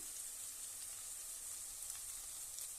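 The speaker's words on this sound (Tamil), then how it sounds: "இஞ்சி பூண்டு விழுது பச்சை வாசனை போற வரைக்கும் நல்லா வதக்கிடலாம்" Ginger garlic paste and onions sauté in a pan for South Indian mutton kuzhambu, a soft, even sizzle hissing steadily throughout with no talking.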